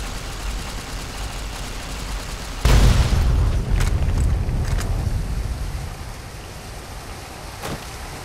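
A single deep explosion goes off in Fallout: New Vegas Lonesome Road, a sudden heavy boom followed by a long rumbling decay over a steady rain-like hiss, with a few faint crackles after.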